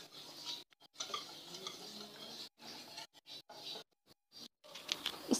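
Flour being mixed into a stiff dough for bakar khani in a home kitchen: soft, intermittent stirring and scraping, close and faint, broken by short pauses.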